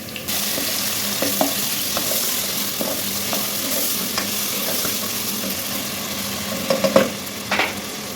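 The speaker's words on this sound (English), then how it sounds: "So here my onions are cooking. I'm frying my onions" Onions sizzle steadily in a hot pan on a grill, a constant crackling fry broken by a few clinks and scrapes of stirring near the end.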